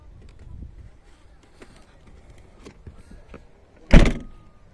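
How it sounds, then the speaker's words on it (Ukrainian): A Citroen C4 Picasso locks from the remote key, giving a single sharp clunk-and-whir burst near the end after a few seconds of quiet, faint background shuffling. "Це, походу, кнопка закриття машини."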